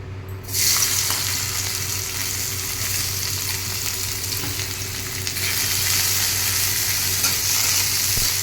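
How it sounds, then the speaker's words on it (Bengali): Boiled carrots, beans and peas frying in oil in a wok, a steady close sizzle with stirring scrapes that swells louder toward the end, no voices. "সেইগুলো আমি এখন একটুখানি ভেজে নেব।"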